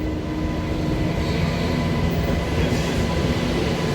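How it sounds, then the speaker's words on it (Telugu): A MEMU local train pulls away on a journey from Hyderabad toward Vijayawada, its steady low rumble and rattling carriages loud and continuous, with no voices. "సో ఇప్పుడు చూడండి మన ట్రైన్ అయితే బయలుదేరుతుంది"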